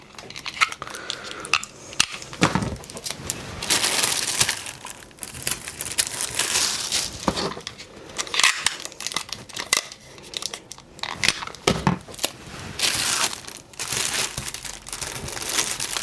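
Paper pattern pieces for pajama pants are taped together, giving bursts of crinkling paper and tape tearing in irregular clusters with short pauses, close and fairly clear.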